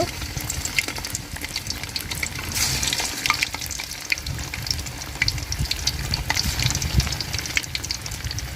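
Shrimp and banana blossom fritters fry in hot oil with a loud, steady bubbling sizzle and occasional crackles and light clinks, close up with no talking.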